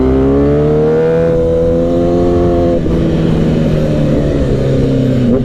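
A car comes in with a loud, close engine note that holds steady and then shifts into a rougher revving growl, in a roadside setting with sport motorcycles around.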